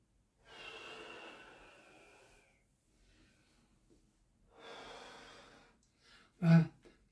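Slow, audible breaths taken during a gentle gym exercise for older adults, two long airy inhales or exhales a few seconds apart, followed by a short sharp snort-like breath, close and quiet.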